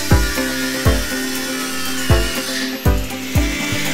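An angle grinder works on rusty parts of a Mazda, its sustained whine broken by repeated loud bursts as the disc bites into the metal, close and harsh, with no talking.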